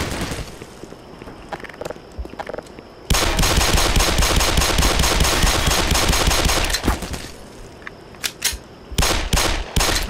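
Machine-gun fire bursts out in the first-person shooter Black Mesa, with a long loud rattling volley in the middle and shorter sharp bursts and single shots before and after.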